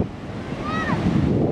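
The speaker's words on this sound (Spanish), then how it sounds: "Llegamos al mar." Ocean surf rolls in at a beach in a steady wash, with wind buffeting the microphone throughout and a faint whistle-like tone drifting through the middle.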